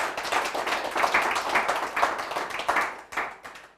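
A hall audience at a political party gathering applauds an honoured guest, a commander, with brisk, uneven clapping in waves that briefly dips and resumes before fading out.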